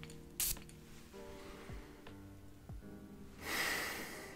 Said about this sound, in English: let's go ahead and spray some on camera so that you guys get an accurate impression of the atomizer